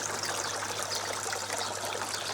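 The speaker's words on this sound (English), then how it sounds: "So I'm back up and got water going through the filter system." Water runs steadily through a gravity-fed koi pond filter system, a constant close trickling and splashing flow with an even, unbroken hiss and no voices.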